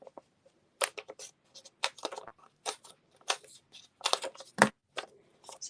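Scissors snip through paper and card pieces for a handmade owl card, a quick irregular series of close, crisp cuts separated by short pauses.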